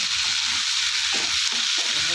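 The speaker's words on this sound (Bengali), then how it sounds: "তেলটা আমার গরম হয়ে গেছে, এবার এই ভেন্ডিগুলো ছেড়ে দেবো" Okra for bhindi masala goes into hot oil, giving a constant close, loud sizzle with bubbling variation and no talking over it.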